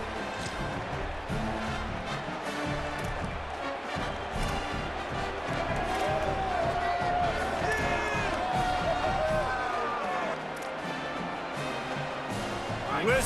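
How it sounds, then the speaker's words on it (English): Stadium crowd noise from an EA Sports College Football video game, a dense continuous roar of fans urging the defense in a tense late two-point try, with scattered cheers and whistles swelling toward the end under commentary voices. "Listen to this crowd begging its defense to get a stop."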